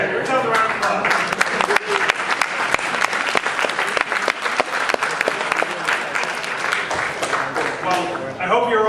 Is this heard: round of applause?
yes